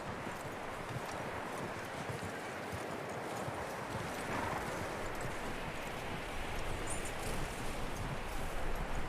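Continuous rhythmic hoofbeats of a horse in Red Dead Redemption 2 under a steady wash of ambient outdoor noise, moderately loud and unbroken throughout.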